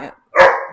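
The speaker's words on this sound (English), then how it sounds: "That was my dogs again." Dogs let out a short sharp bark close to the mic, loud and brief after a quiet moment, with no speech over it.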